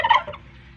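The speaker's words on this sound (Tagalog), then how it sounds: "Mayroong dalawang pabo, no? Dalawang pabo, kamusta po kayo?" A turkey gobbles once in South Cotabato, Philippines, a brief rapid warbling burst close by, followed by faint background quiet.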